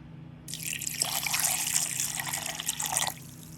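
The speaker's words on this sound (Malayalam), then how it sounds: "ഇതിലേക്ക് നല്ല തണുത്ത വെള്ളം ഒഴിച്ച് അടിച്ചെടുക്കാം" Cold water poured into a blender jar of grapes for juice, a close, steady splashing stream that starts abruptly, swells into a fuller gush and then cuts off after about two and a half seconds.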